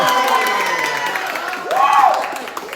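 An audience at a boxing event claps and cheers, a dense wash of crowd noise with whoops and a brief rising shout near the end, voices mixed through it.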